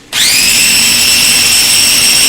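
Electric mixer whirring at high speed as it mixes quesadilla ingredients, including salt, starting abruptly and holding a loud, steady whine without pause.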